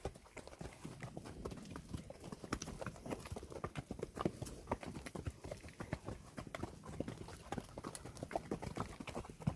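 A horse walks at a steady pace on a family ride, its hooves clip-clopping in an even rhythm close by, moderately quiet with no talk over it.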